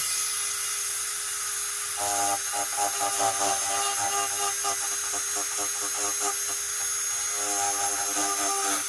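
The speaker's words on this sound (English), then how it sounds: "this is what a Dremel on a tip looks like" A Dremel rotary tool grinds and tidies the tip of a yew wood bow, a steady high whine with shifting pitched tones that waver as the tool works the wood, close and continuous throughout.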